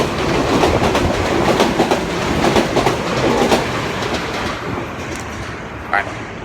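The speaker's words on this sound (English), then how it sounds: "Now, the train's coming." A train rolls past close by in Japan, loud and continuous with a rushing roar and clattering wheel rhythm, its noise easing off toward the end as a voice talks over it.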